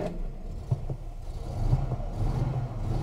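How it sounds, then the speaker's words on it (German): A 1958 Mercedes 220 S Ponton engine, still cold on a snowy day, turns over and settles into a steady low idle, with a few sharper bursts early on and a fuller rumble building toward the end. "Ich starte euch jetzt mal kurz den Motor"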